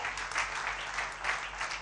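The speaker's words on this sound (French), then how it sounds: "Applaudissez très fort" An audience applauds loudly for the vice-president of a photographers' association in the DRC, a short even wash of clapping with a low hum underneath.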